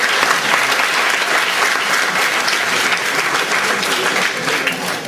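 Dense, sustained audience applause at a cultural event, loud and steady throughout with no speech over it.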